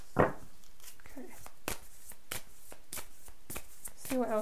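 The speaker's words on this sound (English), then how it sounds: "give these a little bit of a shuffle" A deck of tarot cards is shuffled in a series of crisp riffles and soft slaps spread across several seconds, close and clear, while a voice speaks over the handling.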